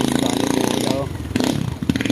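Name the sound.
motorcycle engine running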